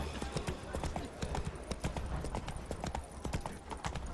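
Hooves of the horse Roach in The Witcher 3 clop steadily and briskly on the ground, a close, continuous rhythmic trot with no talk.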